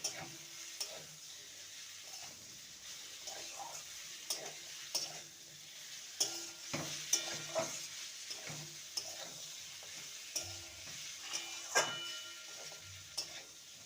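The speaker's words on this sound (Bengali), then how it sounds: "ভেজে রাখা আলু আর পটল দিয়ে দেবো মশলার সাথে আলু আর পটলকে ভালো মতন কষিয়ে নেব" Potatoes and pointed gourd stir-fried with spices in a pan give a soft, low sizzle, with repeated light scraping and clinking of a spatula stirring at an irregular pace and no talking.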